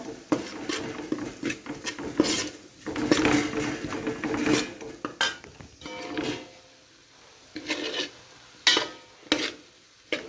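Beef, coriander powder and pepper being stirred in a pan, with repeated scraping and clinking of a spoon against the metal in irregular bursts, close and fairly loud, no talking.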